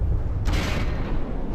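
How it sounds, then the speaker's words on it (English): A single heavy explosion in the naval combat game From the Depths, a deep booming blast with a rushing tail that fades slowly over a second or so, loud and heard alone. "Oh, explosion"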